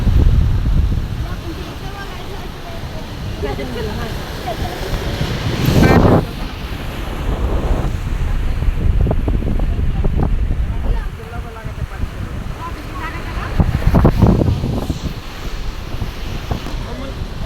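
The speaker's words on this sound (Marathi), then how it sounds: "लाटा कशा येतात" Waves surge and crash in two strong bursts amid steady wind buffeting the microphone, with faint talk in between.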